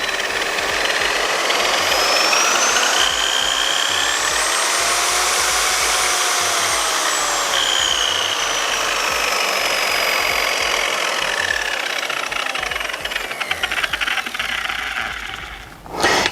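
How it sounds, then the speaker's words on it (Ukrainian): A loud 1900 W concrete grinder motor runs continuously with a rising and falling whine, then winds down smoothly toward the end with its soft stop. "на двигуну стоїть плавний пуск, і точно так же плавно він зупиняється"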